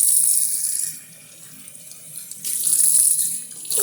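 Tap water runs into a kitchen sink while a pot coated in potato is rinsed, a steady hiss that dips quieter midway, then swells back to full flow.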